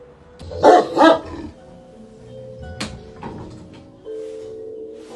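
A dog barks twice in quick succession by an elevator, loud and close, followed by quieter rustling and a faint low hum.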